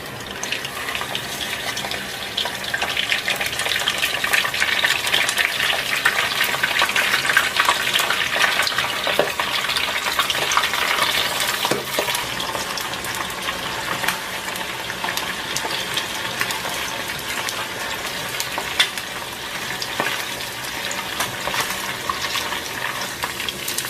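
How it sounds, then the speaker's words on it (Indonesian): Chicken pieces fry in hot oil with a loud, dense, continuous sizzle and crackle that holds steady close by, with no talking. "setelah ini kita langsung aja goreng ayamnya"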